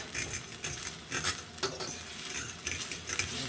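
Spoon scraping and clinking through a yellow vegetable rice mixture in a pot, a steady run of close, fairly loud stirring strokes with no talking.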